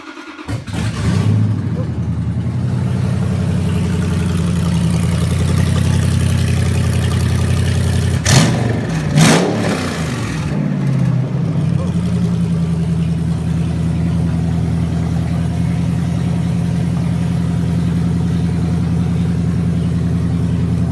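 A 2009 5.7 Hemi V8 on an engine stand cranks and catches on its first startup, then idles with a deep rumble, with two sharp revving bursts partway through before settling back to a steady idle.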